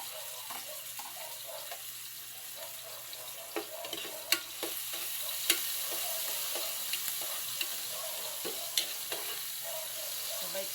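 Garlic and tomato sautéing in a pan, a steady soft sizzle with intermittent sharp clicks and scrapes of a utensil stirring against the pan, fairly quiet and close.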